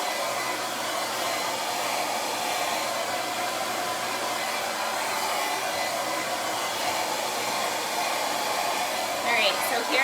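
A hand-held hair dryer blows steadily and loudly at close range for the whole stretch while styling hair for a long-lasting blow-dry and waves, a constant airy roar with no pauses.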